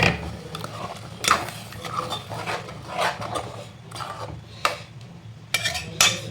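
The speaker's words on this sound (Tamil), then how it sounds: "மிக்ஸி ஜார் கழுவி கொஞ்சம் தண்ணி ஊற்றுக்கணும், கொஞ்சமாக ஆட் பண்ணிக்கோங்க." A mixer jar is rinsed and water is poured into a pot of curry: scattered clinks and scraping of metal on metal, with sloshing and stirring noises, close and moderately quiet.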